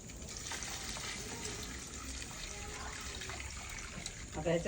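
Steady running hot water pours and splashes into a pot of wild yams being boiled over a wood-fired stove, a continuous watery rush with a few clinks near the end; a voice talks faintly underneath.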